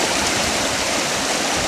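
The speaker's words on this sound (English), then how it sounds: "Crossing these rivers." An Alaskan river rushes steadily past, a dense broadband hiss of flowing water that stays loud and even throughout, close by with no voices.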